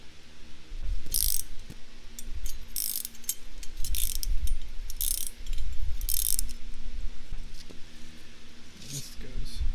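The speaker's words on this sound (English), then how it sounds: "this is the part that you'll ratchet up to tighten up" A Factory Five e-brake is ratcheted up in quick, repeated clicking bursts close by, with metallic mechanism noise in between.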